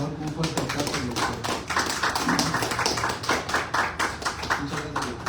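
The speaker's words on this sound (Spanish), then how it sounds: "démosle una bienvenida, por favor, con un fuerte aplauso al doctor." An audience applauds to welcome a doctor taking the stage at a university event, with a dense, steady clapping close by that carries on for several seconds, mixed with voices.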